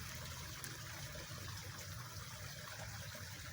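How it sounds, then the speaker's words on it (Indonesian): A small, clear-water river at a fishing spot gives a continuous, even rushing and trickling flow. The sound is steady and moderately close, with no talking. "kalau spotnya di sungai kecil nih"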